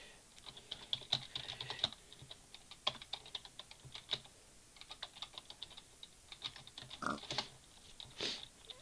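Quick, uneven keystrokes on a computer keyboard, clattering in short bursts with brief pauses between, close and fairly quiet, with no voices.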